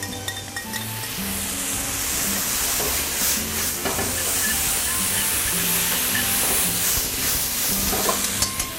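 Bean sprouts with sauce stir-frying in a hot wok with scallion, a loud steady sizzle and hiss with clinks and scraping of the spatula throughout, no talk.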